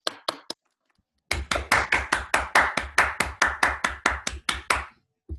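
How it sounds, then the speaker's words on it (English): Applause from an online talk audience after a speaker finishes: a few scattered claps, a pause, then a steady run of about fifteen evenly spaced, close claps, fairly loud, with no talking. "we can give Alberto a round of applause."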